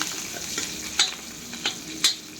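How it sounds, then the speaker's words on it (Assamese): Onions and green chillies fry in hot oil in a pan, a steady sizzle with a few sharp clinks of a stirring utensil against the metal, close and without talk. "তেল গৰম হৈ গ'ল, এতিয়া পিঁয়াজ জলকীয়া ভাজি লওঁ চব্জি ভাজিবৰ কাৰণে।"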